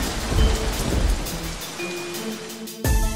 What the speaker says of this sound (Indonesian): Loh, kok jadi hujan deras banget?